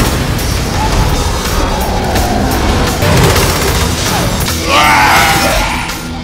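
Dense bursts of gunfire in a film as the hero mows down zombies on Mars, loud and continuous and layered with booms and crashes under a thick soundtrack.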